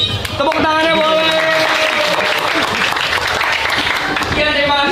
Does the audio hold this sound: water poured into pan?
no